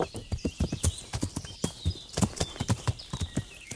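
Horse hooves clip-clop at a steady walking rhythm in the medieval video game Kingdom Come: Deliverance, close and distinct with regular clopping steps throughout.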